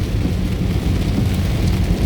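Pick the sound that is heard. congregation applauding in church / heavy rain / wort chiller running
heavy rain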